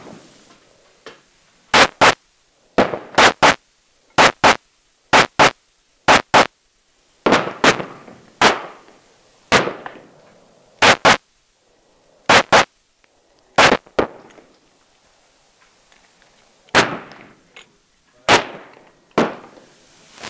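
Sharp gunshots from a compensated Glock 19 pistol, loud and close, fired in quick pairs and short strings with brief pauses between them.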